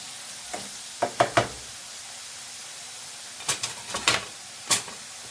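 Onions and peppers in a hot pan give quiet sizzling broken by several sharp stirring and scraping clatters, some clustered and some spaced apart, with no talking.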